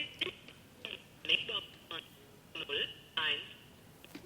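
A mobile phone dials a number, giving a series of short, evenly spaced beeps that lead into a call to a German voicemail system, quiet and clear in a room.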